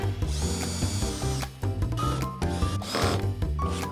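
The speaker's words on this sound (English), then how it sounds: "Just drill some holes." A power drill whirs loudly and continuously, its pitch dipping and surging as it bites into wood, close up, in a camper van build.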